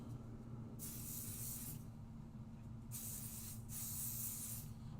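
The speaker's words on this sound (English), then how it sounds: "I am going to grab a little bit of Pixie Spray" A spray bottle of Pixie Spray gives several short hissing bursts, about three distinct sprays with pauses between, close and clear over a low background hum.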